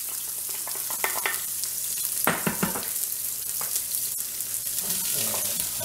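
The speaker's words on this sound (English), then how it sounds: "what we're gonna do is saute my onions and my peppers and my garlic" Onions sizzling and frying in hot oil in a pressure cooker pot, with a steady close crackle and occasional scrape of stirring, no talking.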